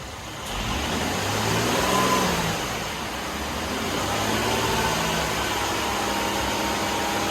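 A Mercedes-Benz engine holds a steady run at about 2000 RPM, its even mid-pitched hum close and constant for the whole stretch with no obvious irregular noises.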